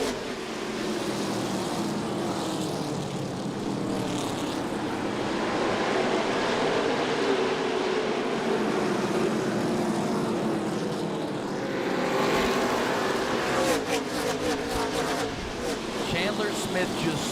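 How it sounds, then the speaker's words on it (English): ARCA stock race cars roar through a restart at Elko Speedway, a dense, loud pack of engines droning steadily and rising toward the end, with a commentator talking over the racing. "Chandler Smith, Chase Purdy, restart once again."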